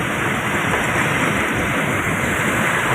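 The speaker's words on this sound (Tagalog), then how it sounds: "dito na inabot ng ulan" Steady, dense rain pours down on a Manila street, a continuous broadband hiss with no breaks, close and fairly loud, with no voices.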